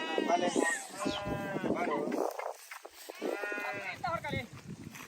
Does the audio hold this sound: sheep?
yes